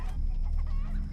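A brief burst of chicken clucking, soft and close, over a steady low hum.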